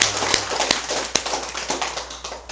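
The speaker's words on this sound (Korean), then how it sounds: "박수 보냅시다" A congregation at a Buddhist memorial service claps, irregular sharp hand claps scattered over a steady hum, fairly close and loud.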